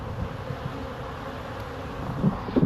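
Honey bees robbing spilt syrup on the side of a freshly fed nuc hive make a steady, dense buzzing hum that swells slightly near the end.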